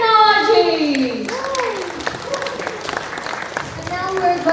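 Audience at the ASIA BRICOM 2019 presentation session in Indonesia applauding for Malang University of Science and Technology, a steady wash of clapping under overlapping voices and a child's speech throughout.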